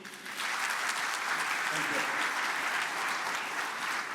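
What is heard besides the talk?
audience applause for Mr. Murthy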